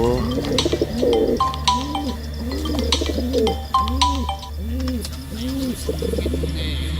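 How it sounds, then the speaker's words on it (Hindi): Pigeons coo in a repeated, rhythmic series close by, over a steady low hum, with a few higher chirps mixed in. "कबूतरिया अकेला उड़ारी मार रहा है"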